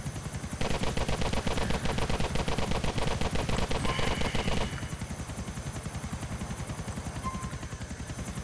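A helicopter's mounted guns fire a loud, rapid, continuous burst in Grand Theft Auto IV multiplayer over the steady chopping of rotor blades. The gunfire stops after a few seconds and the rotor thrum carries on alone.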